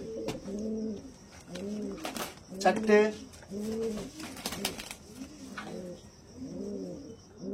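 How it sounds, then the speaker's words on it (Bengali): Andhra pigeons coo in soft, repeated rounds close by as they are released, with wing flutters and a man counting aloud over them. "3টে পায়রা ছেড়েছি"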